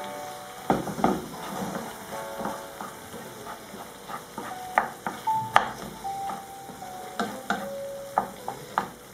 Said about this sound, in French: Voilà, je vais tourner.